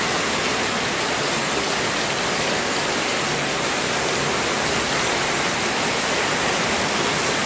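A downpour of heavy rain falls outside a home, a constant loud rushing hiss like running water, unbroken for several seconds with nobody speaking.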